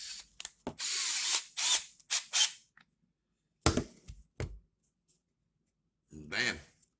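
A hand tool tightens the bolts on a carburetor section in short bursts of clicking and whirring, separated by pauses, close up, with a few quiet breaths and no talking.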